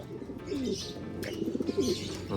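An agitated pigeon held in the hand gives deep throaty coos in short bursts, near and clear, with faint rustling that may be wing movement, and no speech over it.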